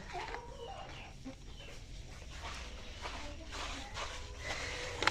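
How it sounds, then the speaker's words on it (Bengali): Four layer hens clucking softly in a steady background murmur while laying eggs, with faint rustling and a brief sharper sound near the end. "এখন দেখাবো আমার 4টা লেয়ার মুরগি"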